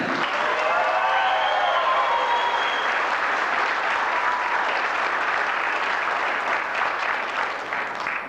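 Steady, even applause fills a banquet hall at a Columbus Speedway Super Late Model racing banquet as a rookie driver is honored, continuing alone without talk.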